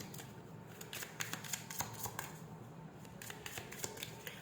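A deck of tarot cards is shuffled by hand, producing a quick series of crisp, close riffling snaps and soft papery slides in an irregular rhythm, fairly quiet, with no speech.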